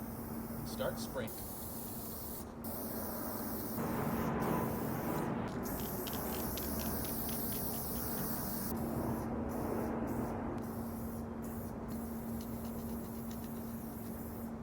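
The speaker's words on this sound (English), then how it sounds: "Start spraying." A Montana spray paint can hisses steadily, stopping and starting in several bursts, close by and fairly loud, with a person talking over it.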